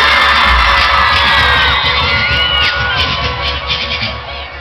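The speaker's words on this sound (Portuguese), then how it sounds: "Agora eu quero ouvir bem a torcida do Timão." Loud crowd of football supporters of Corinthians (Timão) cheering and yelling in response to a call from a stage, dense roaring with whoops and shouts, strongest at first and easing slightly toward the end.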